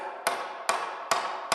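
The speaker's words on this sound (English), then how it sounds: "The whack of a hammer," Hammer blows in a construction workshop: four sharp, evenly spaced whacks, close and loud, each with a short ringing decay, no voices.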